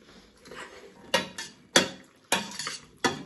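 A spoon mixes pasta with eggplant sauce in a pan, giving several sharp metallic scrapes and clinks at an irregular rhythm, close and fairly quiet.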